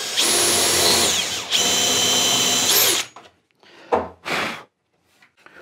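A power drill bores through a wooden panel in a workshop, two loud whining bursts of about a second and a half each, followed by a few short quieter whirs and scrapes before falling silent.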